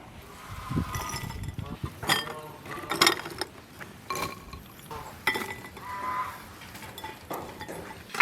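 Bowls clink and knock together as freshly fried crispy pork is divided among them for steaming in a home kitchen, the light ceramic taps coming irregularly and close by over soft background noise.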